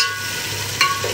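Onions for white chicken qorma fry and get stirred in a pan: a close, constant sizzle with a brief clatter of the spoon partway through.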